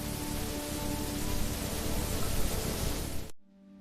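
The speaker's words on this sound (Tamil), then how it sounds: "ஐயோ, மழை ஆரம்பிச்சிருச்சு." A cartoon sound effect of rain starting to fall gives a dense, steady hiss of rainfall that cuts off abruptly near the end.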